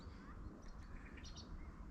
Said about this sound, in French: Il y a un merle qui gueule.